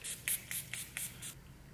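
A Tatcha Luminous Dewy Skin Mist bottle sprays five quick, close hissing pumps in a steady rhythm, then goes quiet.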